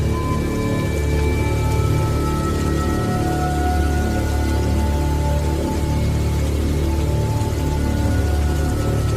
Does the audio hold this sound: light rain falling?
yes